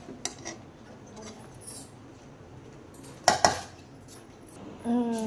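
Kabuli pulao being served out of a cooking pot: a few sharp metallic clinks and scrapes of a serving spoon against the pot, sparse and fairly close, with quiet room background between them.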